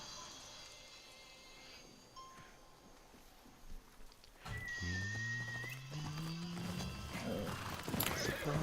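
In a video game, a horse whinnies with a drawn-out neigh as hooves clop along, mid-distance over an ambient game background.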